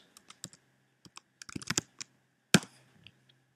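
Typing on a computer keyboard: scattered, irregular key clicks close by, a quick burst of several strokes and one louder tap, with pauses between.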